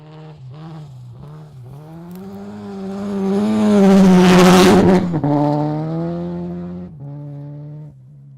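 A rally car on a gravel stage in Oregon approaches with a climbing engine howl, roars loudly past at close range, then fades off as the engine note drops away.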